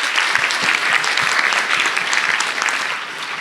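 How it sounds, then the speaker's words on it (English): An audience at the HEAR Symposium 2024 claps in sustained, dense applause that stays loud and even for a few seconds before easing slightly, with no talking over it. "let's give them a round of applause"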